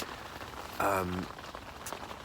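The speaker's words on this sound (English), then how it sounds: "it's raining again, and it's been raining for the last 3 hours" Steady rain falls at a carp fishing lake in autumn, a soft continuous patter on surfaces, briefly overlaid by a short voice sound near the middle.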